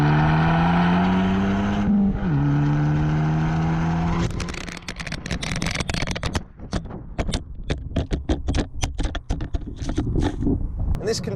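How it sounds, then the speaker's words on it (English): An Abarth 695 Biposto in Sport mode with its exhaust valves open first drones steadily, then dips and settles. It breaks into loud, rapid, crackling bursts as it accelerates hard, with a voice over the engine at the start. "the throttle response increases, and some valves open up in those artillery-inspired exhaust pipes."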